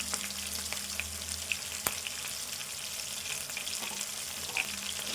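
Potato and tomato pieces with mint and coriander frying in a pan for aloo pulao, a steady close sizzle with a few light clicks of stirring, no talk.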